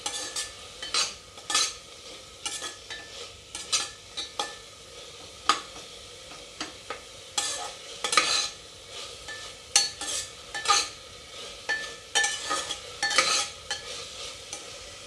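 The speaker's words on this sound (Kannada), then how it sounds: "ಟೊಮ್ಯಾಟೊ ಒಂದು ಸ್ವಲ್ಪ ಸಾಫ್ಟ್ ಆಗಬೇಕು, ಆ ರೀತಿ ನಾವು ಫ್ರೈ ಮಾಡ್ಕೊಳ್ಳೋಣ." Tomatoes frying in a pan with salt until soft for tomato bath, heard as a steady close sizzle broken by repeated scraping stirs of a spoon against the pan, with no talking.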